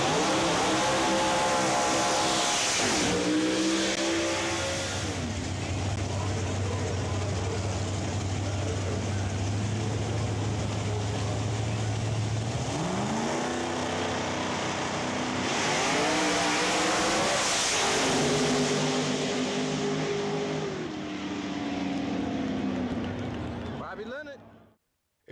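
Pro Outlaw Door Slammer drag race cars roar loudly at a drag strip in a final round, engines screaming through rising gear changes as they accelerate down the track, a continuous loud close roar that fades out at the end.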